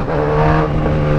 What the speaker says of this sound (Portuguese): Acelera aí a moto